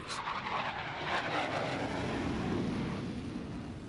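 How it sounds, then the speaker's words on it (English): A Boeing FA-18 Hornet fighter jet roars overhead near Lemoore, a loud broadband engine rush that swells and holds steady for several seconds with no voices. "the skies over Lemoore echo with the deafening roar of FA-18 jet fighters"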